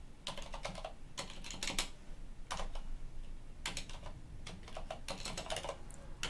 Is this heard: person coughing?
no